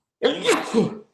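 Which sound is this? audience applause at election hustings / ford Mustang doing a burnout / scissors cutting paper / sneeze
sneeze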